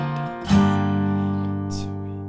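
A guitar strikes a single loud chord of a song's progression, G/B moving to C, that rings out and slowly decays over a couple of seconds, close and alone.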